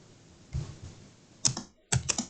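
A few scattered keystrokes on a computer keyboard, close and crisp, with a short quick burst of typing near the end.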